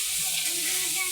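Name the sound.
chickpeas frying in oil in a large wok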